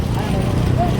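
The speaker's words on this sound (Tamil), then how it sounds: "என்ன பின்னாடி மாடு வருதுண்ணே" Bull hooves clop along a dirt track during a village bull cart race in Tamil Nadu, a fast rhythmic trotting close by, with people talking loudly over it throughout.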